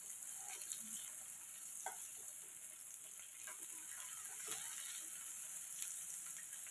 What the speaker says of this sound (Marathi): गॅसची फ्लेम कमी जास्त करून हे पनीर दोन्ही साईडून छान असे खरपूस भाजून घ्यायचे आहेत